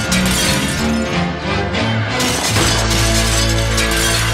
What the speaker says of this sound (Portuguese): Um homem atira em vários espelhos,